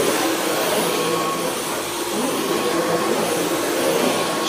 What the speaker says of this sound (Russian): Как обычно, утренний пылесос.